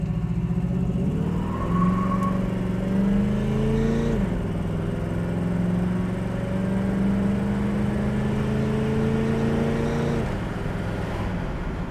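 A 1968 Pontiac Firebird accelerating through a couple of gears, its engine note climbing steadily, dropping briefly at a shift and rising again, a close, continuous droning roar with no voices.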